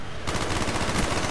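Automatic gunfire in the video game Call of Duty: Black Ops, a loud close burst of rapid shots starting abruptly and continuing to the end, no speech.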